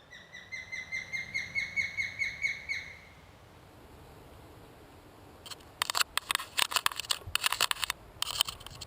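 A young osprey, a female recovering from emaciation at a rescue centre, gives a rapid series of about a dozen rising, whistled chirps close by, then falls quiet before scraping and rustling noises follow.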